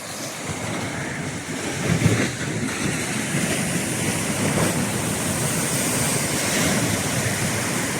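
Ocean waves crash steadily on a beach along the Ivory Coast, a continuous broadband roar with rolling surges and no voices.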